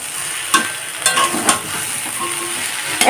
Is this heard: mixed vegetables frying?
yes